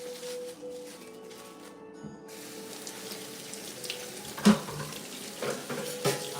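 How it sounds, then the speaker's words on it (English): A chayote is rinsed under a running kitchen tap, a steady soft stream of water with a few brief louder splashes and clatters near the end, no voices. "let's give it a rinse"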